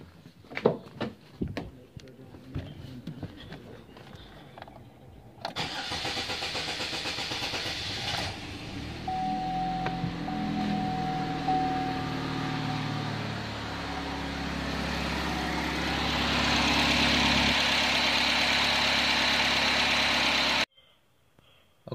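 A car engine cranks with rough stuttering bursts, catches and settles into a steady idle that rises slightly before cutting off abruptly, heard close up during fuel pump troubleshooting, with a voice briefly audible early on.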